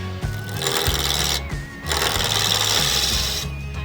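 Wood lathe spinning an olive wood pen blank while a high-speed steel chisel cuts it, giving a loud whirring, chattering rumble. Brief dips in the cutting noise interrupt it before it picks up again.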